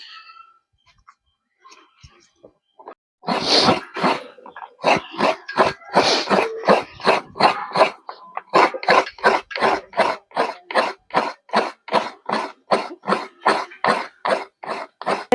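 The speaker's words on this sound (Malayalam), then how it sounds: "തുമ്മി തുമ്മി തുമ്മി ഉപ്പാടിളകുന്നുണ്ട് കേട്ടോ എന്തൊരു തുമ്മലച്ചിട്ടാ" A person sneezes over and over in a home kitchen, sharp close bursts at first scattered and then coming in a fast, steady run of about twenty, with no talk.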